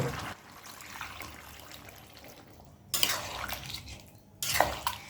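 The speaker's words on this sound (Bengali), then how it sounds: "এবার এর মধ্যে আমি দু কাপ পরিমাণ জল দিয়ে দেব" Two cups of water pour into a pot of cooking chicken, a steady splashing rush with clinks of a metal vessel and two sharper knocks against the pan, fairly close and with no talk.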